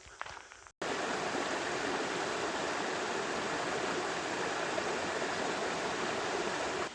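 Shine Falls, a waterfall and stream, pours in a loud, steady broadband rush that fills the scene after a brief quieter moment and a sharp cut near the start, continuing unbroken and close.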